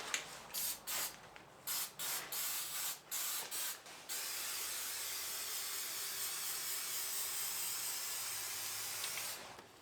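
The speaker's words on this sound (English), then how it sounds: "we're using a rubberized texture coating to make all the welds look decent" Rubberized texture coating hisses from a spray can onto a 4Runner rear bumper, first in a series of short bursts and then in one long continuous spray, close by and with no talking.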